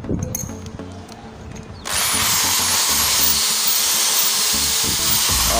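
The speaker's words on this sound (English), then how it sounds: "you need a concrete drilling machine" A loud rotary hammer drill starts abruptly after a quieter stretch of clattering, then whines steadily at full speed drilling into a concrete wall, close and continuous to the end.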